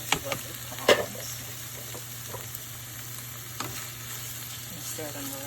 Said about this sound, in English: I'm going to add in these gorgeous lovely prawns